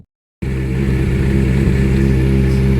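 Triumph TT600 motorcycle engine starts for the first time after salvage and settles into a loud, steady running note, close up and alone after a brief silence.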